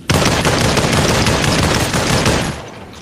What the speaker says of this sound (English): And the shotgun.